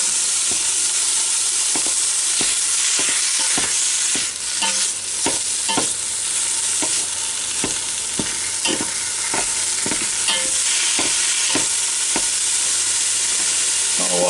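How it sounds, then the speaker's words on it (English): Ground beef sizzling steadily in a hot Ninja Foodi Deluxe pot, a constant loud hiss broken by frequent scraping and stirring clicks of a utensil. "that's starting to sizzle up pretty good now"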